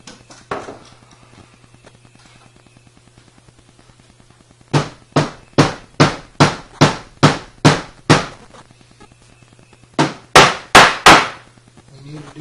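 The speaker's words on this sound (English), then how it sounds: "we can pin the bottom as tight as we can" A hammer nails the bottom of a door jamb tight against sheetrock during a door hanging job: a few taps, then a steady run of about a dozen loud, evenly spaced strikes and a final quick cluster, with no talk.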